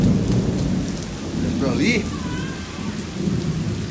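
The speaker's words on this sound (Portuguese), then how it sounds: "Olha o trovão. Escuta aí." Thunder rumbles through a windy rainstorm at a reservoir in Brazil, a low roll swelling under steady heavy rain and gusting wind, with a brief voice speaking in the middle.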